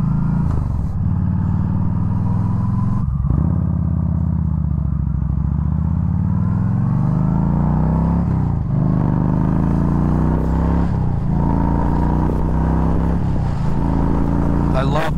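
Yamaha V Star 1300 motorcycle engine running steadily while riding, a continuous low rumble with rising and falling revs and shifts throughout, heard under someone talking.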